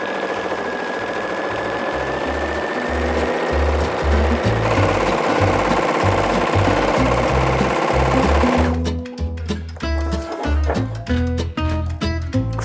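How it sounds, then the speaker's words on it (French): A sewing machine stitches a seam line 13 mm in, running fast and loud with a steady chugging pulse that becomes choppier, start-and-stop stitching near the end; no speech. "je vais me faire une ligne à la couture à 13 mm"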